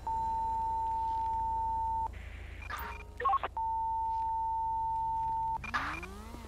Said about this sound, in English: I've got what sounds like a bank alarm going off near my location